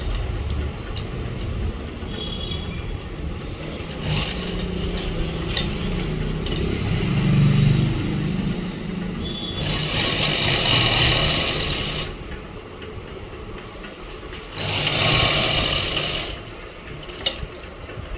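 A sewing machine stitching palazzo pants near a pocket cut, running in two loud sustained bursts with mechanical whirring and clatter between quieter handling pauses.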